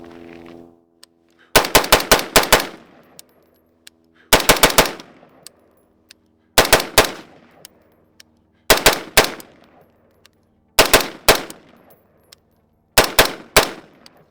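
A Radical Defense MK1 Patrol Mod1 rifle fires in six separate quick strings of loud, sharp shots, each string of three to five rounds followed by a short ringing decay and a pause before the next string.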